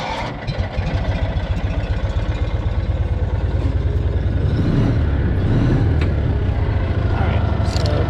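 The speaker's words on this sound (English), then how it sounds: "All right, let's get this thing started, and then I'll show you guys a little bit how the brakes are dragging" An M274A1 Mechanical Mule with dragging brakes fires up close by and settles into a steady, loud, rhythmic engine idle that grows a bit rougher and heavier toward the end.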